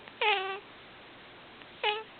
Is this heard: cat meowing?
yes